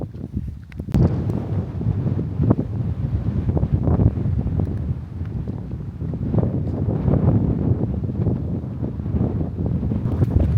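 Strong wind buffets the microphone at a castle in Inverness, Scotland, in a steady, rumbling roar that lasts the whole time, with gusty swells and no voices.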